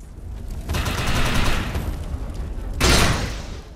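Sustained gunfire in the game Defiance as shots hit a projection, heavy rapid bursts forming a steady roar with a second loud volley near the end.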